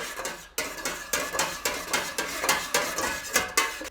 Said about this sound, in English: Take your spoon and just give it a simple stir.